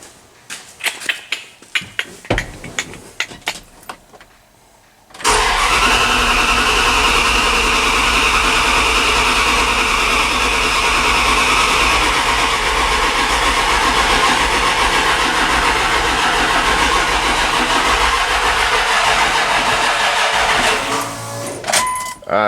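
A Dodge 5.9/5.2 Magnum V8 on a stand-alone ECU gives a few clicks and jangles, then cranks loud and steady for about sixteen seconds with little sign of catching.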